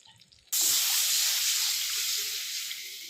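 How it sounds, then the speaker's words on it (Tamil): Water poured into hot spiced oil in a pot while making buttermilk curry gives a sudden loud, steady sizzling hiss that starts abruptly and holds strong, easing slightly toward the end. "இப்போ நம்ம குழம்புக்கு ஏற்ற தண்ணி ஊற்றிக்கலாம்."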